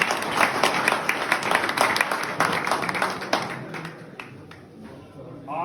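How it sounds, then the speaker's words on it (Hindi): A village crowd in Naraina claps to welcome a JJP politician, loud, dense applause that gradually thins and fades over several seconds while a voice speaks faintly underneath. "ताली बजाओ भाई।"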